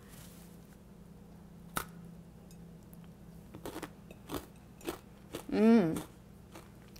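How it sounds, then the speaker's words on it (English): Candy-coated pretzels, a St. Patrick's Day snack, crunched and chewed close to the mic in a few sharp bites and a short burst of chewing, with a brief hum of approval from the eater. "today I'm taking a taste of our coated pretzels"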